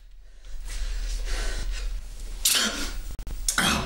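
Breathy inhales build up, then two sharp, loud sneezes burst out close by, one after the other.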